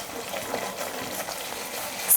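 Chicken masala cooking in a pan on a stove turned down low, a soft steady sizzle and gentle frying hiss running throughout, with a brief clink near the end.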